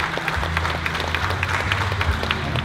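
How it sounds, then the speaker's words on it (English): Applause from a crowd at an outdoor Hmong festival in Wausau, a dense, steady wash of many clapping hands heard at a distance, with a low hum running underneath throughout. "Let's have a round of applause for Yi Ling,"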